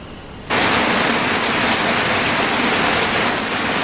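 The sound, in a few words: rain falling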